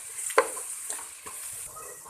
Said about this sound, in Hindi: चार से 5 मिनट के लिए जिंजर गार्लिक को अच्छी तरह मैं कुक करूँगी